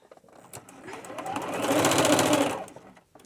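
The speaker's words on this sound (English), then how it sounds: "I'm going to go down this side and just try to make it look as nice as possible. Try to keep those seams where they belong." A sewing machine stitches the seam of a boho fairy skirt made from upcycled materials. A close, steady whir builds up, holds for a second and then winds down.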